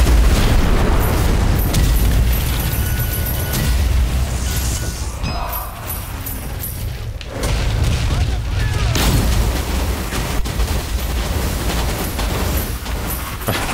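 A grenade goes off in the video game Strange Brigade amid a loud, sustained barrage of booming blasts and gunfire. The heavy rumble continues with a brief dip midway, and a voice talks over it.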